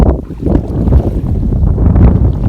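Strong wind buffets the microphone with a constant low rumble and roar, loud and continuous throughout.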